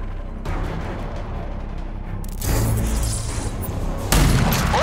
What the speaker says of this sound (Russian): Это боевой дробовик. Мощное оружие при стрельбе на ближней дистанции.